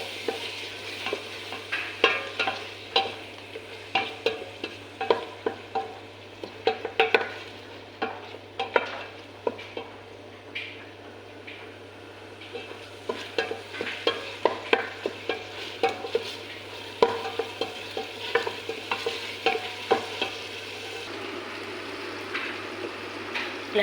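Chopped tomatoes frying in a pan are stirred again and again with a utensil, giving irregular scraping knocks over a soft, steady sizzle, close up and with no talking.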